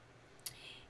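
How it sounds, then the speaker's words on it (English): A single sharp mouse click on an icon while working in Photoshop on a computer, one brief near tick in an otherwise quiet room. "I'm going to add a mask by clicking on this icon."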